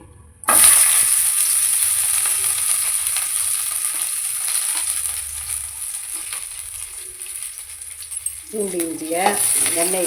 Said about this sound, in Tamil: பூண்டு இஞ்சியை நல்லா வதக்கிக்கணும்